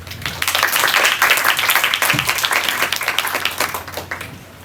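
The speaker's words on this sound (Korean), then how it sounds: "박수 한번 크게 치고 한번 다시 시작을 해보도록 하겠습니다" Loud, energetic applause from an audience at a student team's midterm presentation, dense clapping that swells quickly, stays strong and tapers toward the end.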